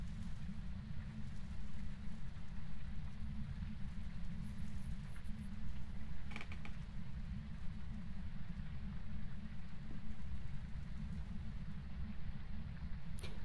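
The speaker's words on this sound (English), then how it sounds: "Huh, raindrops on the glass." Steady rain patters on glass in the ghost-hunting game Phasmophobia, a soft continuous wash of drops with a few faint clicks and creaks, heard alone with no voices.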